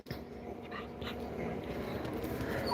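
Puppies whimper and pant softly, with small yips and restless breathing close by at low volume, outdoors in Orlando with hurricane chairs set out.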